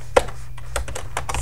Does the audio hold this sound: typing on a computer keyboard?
yes